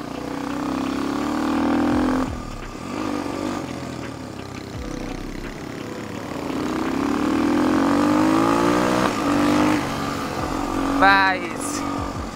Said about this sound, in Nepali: काया K6 मोटाड है गाइस, चाहिँ कस्तो गाह्रो भयो मलाई चलाउन।